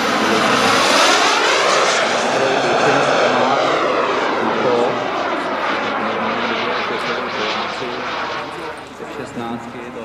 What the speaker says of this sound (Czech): vidíme krásnou dynamickou plynulou ukázku letounu F-16 Fighting Falcon